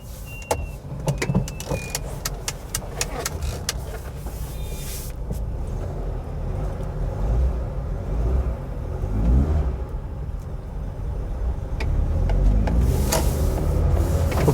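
A 2015 Honda Amaze CNG sedan drives and makes a U-turn, its engine and road noise a steady, moderate rumble from inside the cabin that grows louder toward the end.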